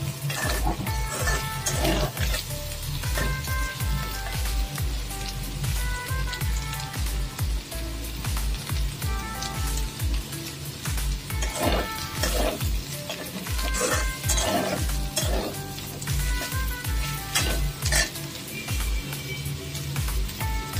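Potato and paneer with slit green chillies sautéing in a pan: steady close sizzling broken by repeated scraping and clinks of a spoon stirring against the metal, continuous throughout with no talk.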